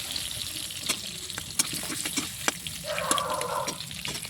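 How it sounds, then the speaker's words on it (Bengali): Potatoes fry in oil in a wok and are stirred, a broad steady sizzle broken by sharp scraping knocks, with a brief watery hiss toward the end. "আলুগুলো দিয়ে নাড়িয়ে চাড়িয়ে সুন্দর করে লাল লাল করে ভেজে নিয়ে তুলে নেবো আগে।"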